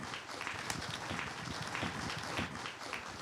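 Dense, steady applause from an audience filling a hall, broadband clapping held at an even level throughout with no talk over it.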